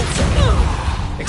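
A Bombarda blasting spell goes off in Hogwarts Legacy as a short whooshing burst followed by a heavy low rumble, loud and up close.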